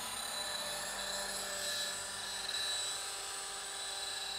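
Roban EC130 800-size scale RC helicopter flying close overhead in a tight yard, a steady loud turbine-like whine and rotor buzz with high harmonic tones, sustained throughout without talk.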